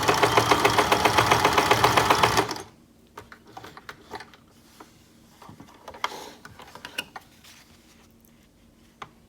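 A sewing machine runs in a fast, even burst of stitches along a seam for about two and a half seconds, then stops, leaving faint clicks and handling noises.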